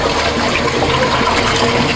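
A camper van toilet flushes with a loud, steady rush of water from close by, filling the whole moment without any voices.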